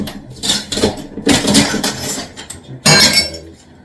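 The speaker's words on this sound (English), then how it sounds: "Definitely glass popping out" Inset bathroom mirror glass cracks and pops out of the wall in several sharp, loud bursts of clinking and crunching, with brief quieter gaps between the breaks.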